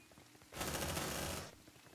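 Marines' gunfire in Aliens: Dark Descent, a single sustained burst of rapid automatic fire lasting about a second, loud against a faint, quiet background.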